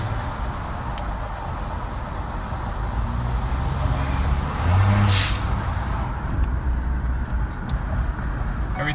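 2012 Ford F150 EcoBoost engine runs at a steady idle, heard from the passenger side exhaust near a wall, a continuous low rumble with a brief louder burst midway.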